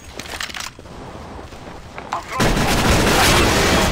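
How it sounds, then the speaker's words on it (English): Gunfire in the video game CS:GO: scattered shots and impacts give way to a loud, sustained burst of rapid firing that fills the final second and a half, with a voice talking briefly earlier. "Is he shooting at a teammate?"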